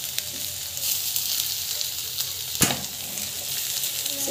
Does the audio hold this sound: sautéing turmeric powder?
yes